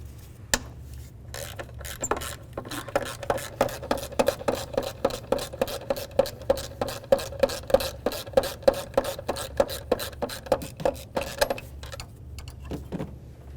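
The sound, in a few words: ratchet wrench with 12mm socket removing a bolt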